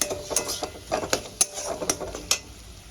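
Tomato being sautéed in a pan with coriander and red chilli powder, with a spoon or spatula clinking and scraping against the pot in a quick irregular series of sharp taps over a soft low sizzle; no talking.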